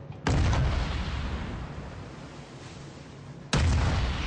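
Warship main guns firing in World of Warships: two heavy booming salvos, one near the start and one toward the end, each trailing into a long rumbling decay.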